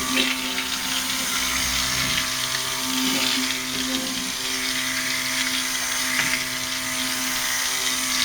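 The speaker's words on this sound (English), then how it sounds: "So I'm just continuing to stick blend." A stick blender whirs steadily through coconut oil soap batter, a continuous close motor drone with a faint liquid churn, while children can be heard faintly outdoors through an open window.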